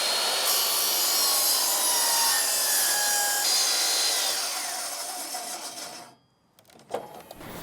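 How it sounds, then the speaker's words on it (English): A miter saw cuts through a 10-inch common board for a small camping nightstand, a steady loud whining rasp lasting about six seconds before the blade winds down and a short clatter follows. "I'm just going to be using my miter saw to cut all the miters and all the cuts that I need to do"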